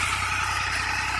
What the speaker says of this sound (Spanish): Acá les muestro la moto de Rich, una Triumph inglesa